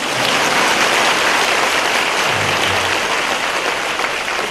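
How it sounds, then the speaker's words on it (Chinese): Dense, sustained applause from an audience at a Buddhist teaching session in Singapore, loud and continuous throughout with no speech breaking through. "现在该鼓掌。"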